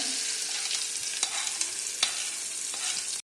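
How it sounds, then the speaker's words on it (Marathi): A spoon scrapes and stirs freshly poured tempering through chutney in a pan, a soft sizzle running underneath with a few sharp clicks of utensil against metal, close and without talk. "हे बघा मी ह्याच्यामध्ये ही फोडणीची आहे ती पूर्णपणे मिक्स करते"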